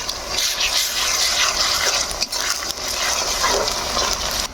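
Chicken liver with ginger-garlic paste fries and is stirred in a pan, a close bubbling sizzle with scraping stirring strokes and brief clinks, steady and fairly loud without speech.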